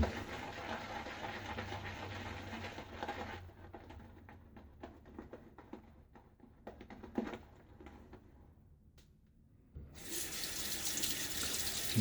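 A water tap runs into a sink while fingertips are rinsed during a wet shave, a steady close stream that drops to faint drips and handling noises midway, then comes back at full strength.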